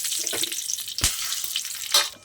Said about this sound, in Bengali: এরপর আমি এই ঘি আর তেলের মধ্যে গোটা গরম মশলা দিয়ে দেবো, আর দেবো 3টে তেজপাতা